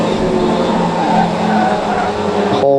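Pro Stock cars race around the Cowdenbeath Racewall oval, their engines roaring loud and continuous as the pack thunders down the home straight, with the engine note shifting near the end.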